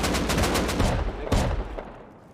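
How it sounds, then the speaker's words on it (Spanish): Shotgun trap in the survival game Rust firing during an online raid: a rapid burst of loud, close blasts followed by one more heavy shot that trails off into a fading echo, with no talking. "Se matan con su trampa escopeta,"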